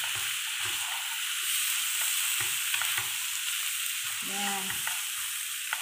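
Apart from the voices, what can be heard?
stirring chicken curry in a pan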